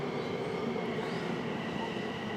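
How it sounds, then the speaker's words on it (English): A train pulls into a Kew Gardens station with a steady rolling rumble and a faint high metallic whine, continuous throughout and moderately loud. "there's another train coming"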